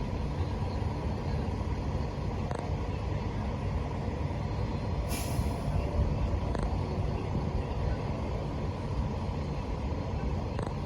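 A truck's air brakes set with a short hissing burst midway through, over a steady idling engine rumble at a driving test yard while a tractor-trailer is backed at a 45-degree angle.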